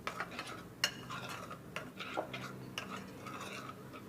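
Vegetable pizza topping with black pepper being stirred in a bowl: soft scraping and clinking of a spoon against the dish, with a few sharper taps, moderately quiet and steady throughout, no voices.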